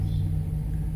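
An old John Deere tractor engine runs at a steady idle, a continuous close low rumble with a hum that holds for about a second, with no voices.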